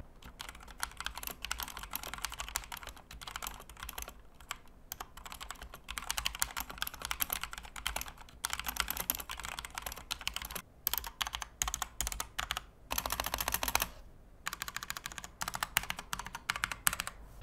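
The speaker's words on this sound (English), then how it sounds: "The keyboard feels very hollow and I just don't feel any type of satisfaction while typing or gaming on it." Steady, fast typing on an RK918 gaming keyboard with a hollow feel, producing a dense run of close, crisp key clacks with only a few brief pauses.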